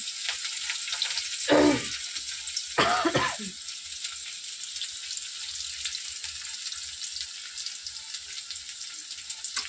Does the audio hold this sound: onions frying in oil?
yes